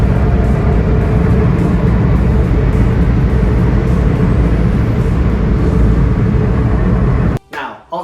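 Steady road and engine roar from a Datsun Go car cruising on the highway, a loud continuous drone heard from inside, which breaks off abruptly near the end into a few brief bumps.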